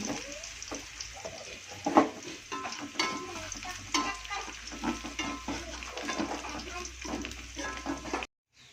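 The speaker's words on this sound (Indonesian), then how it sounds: "Ini kita masukin bawang putih yang tadi udah kita cincang. Kita tumis sampai harum." Chopped garlic sautés in hot oil in a pan, a continuous soft sizzle broken by scraping, clattering stirring strokes and one louder knock, then cutting off abruptly near the end.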